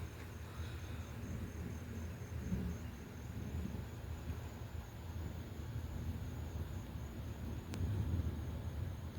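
A Florida storm rolling in brings low, distant thunder that rumbles faintly and continuously beneath a quiet background of insects.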